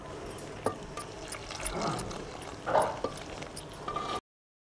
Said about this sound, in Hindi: यहाँ पे मैंने गरम पानी लिया हुआ है हल्का और मैं इस आटे में डालूँगी